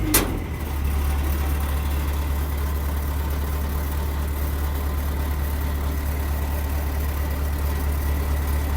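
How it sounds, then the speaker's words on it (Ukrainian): A combine harvester engine idles steadily after a brief knock at the start, a constant low rumble with no voices. "Працює пані двигунчик."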